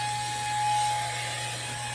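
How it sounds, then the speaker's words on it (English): A Dollar Tree handheld vacuum blower runs at its second speed, giving a continuous, even motor whir and high whine that holds steady and close for the whole moment. "It really has some good blowing. And remember, as you do the speed on this, the suction gets better with the vacuum."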